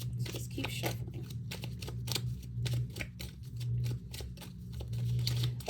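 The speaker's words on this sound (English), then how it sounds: "Okay, so let's keep shuffling." Tarot cards being shuffled and riffled up close, a rapid run of soft clicks and flutters over a low steady hum.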